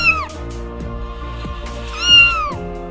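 A cat meows loudly and close, giving two drawn-out, wavering cries in a row that rise and then fall in pitch, with no other sounds around them.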